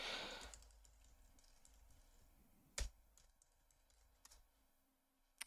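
Quiet close keystrokes on a computer keyboard while entering admin credentials, a short scattered run of soft clicks with a couple of sharper key taps, in a near-silent room.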